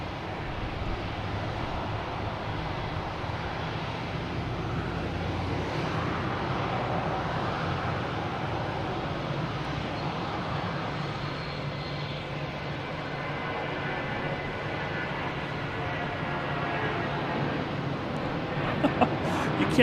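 JetBlue Airbus A320 jet at Boston Logan Airport, a steady broadband engine roar that holds at a fairly even level for the whole stretch, with wind noise mixed in and no voices.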